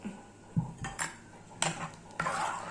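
Curd is stirred into pineapple pachadi in a hot pan. A spoon knocks and scrapes against the pan in a few distinct, close metallic clinks over a quiet background.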